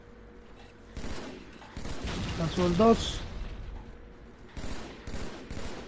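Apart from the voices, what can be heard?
gunshots in a video game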